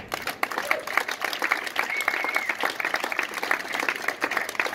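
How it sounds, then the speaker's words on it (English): An audience applauds at a cancer charity fundraising talk, with dense, continuous clapping that fills the whole stretch at moderate distance. "you need to have a big round of applause for that"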